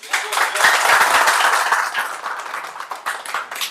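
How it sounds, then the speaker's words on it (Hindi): Loud, dense applause from a crowd at a contractors' meeting, peaking early then gradually thinning out with scattered claps toward the end. "एक बार थोड़ा ताली बजा सकते हैं आप लोग?"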